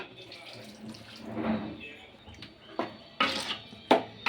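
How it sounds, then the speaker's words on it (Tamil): Water splashes and pours into a pot of goat intestine curry in short bursts, with a steady running trickle and a few louder gushes near the end, close by. "தேவையான வாட்டர் ஆட் பண்ணிக்கலாம்."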